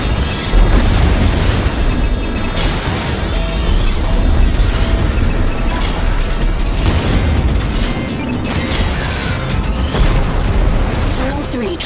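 Explosions of destroyed transport ships in the space combat game Strike Suit Zero, dense rumbling blasts and crackling bursts rolling continuously over heavy low-end thunder, loud and close, with voices speaking over the action.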